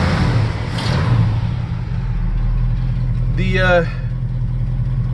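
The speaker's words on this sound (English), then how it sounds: "Let you hear the engine." 1969 Ford F250 Custom Cab Camper Special truck engine idling outdoors, a steady low rumble running throughout, with a brief rising voice heard over it partway through.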